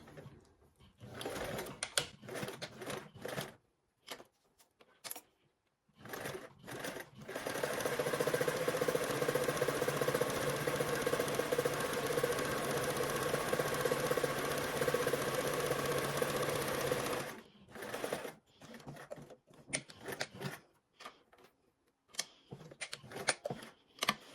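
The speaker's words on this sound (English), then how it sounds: "we are going to go ahead and stitch the same way that we did on the opposite side" A sewing machine stitches a fabric bag handle in a continuous whirring run of about ten seconds. Short, intermittent bursts of stitching and handling noise come before and after it, with no talking.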